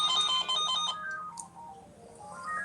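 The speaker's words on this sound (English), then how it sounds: "That's your phone." A phone ringtone rings loudly in a quiet room, with a repeating electronic melody of bright tones that shifts pitch partway through and carries on without any talking over it.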